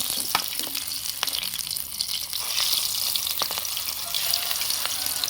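Chilli bajji pieces fry in hot oil with a steady, dense sizzle throughout, broken by a few sharper crackles and pops up close, with no voices.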